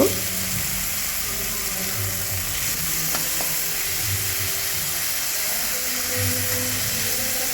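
Drumstick flowers coated in poppy seed frying in a pan, a steady close sizzle and hiss with occasional stirring scrapes and crackles.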